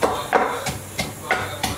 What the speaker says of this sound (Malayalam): ഇഞ്ചി വെളുത്തുള്ളി ഇതെല്ലാം ഇങ്ങനെ ചതച്ചിട്ടാണ് കേട്ടോ ഇടുന്നത്